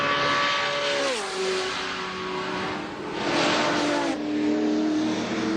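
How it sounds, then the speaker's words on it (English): V8 Holden VK Commodore race car at Bathurst in 1984 roaring down the straight at high speed, a loud sustained engine note that drops in pitch as it passes close by, followed by further engine noise. "This is probably one of the best sounding V8 Commodores. Just listen as they come beneath the camera position."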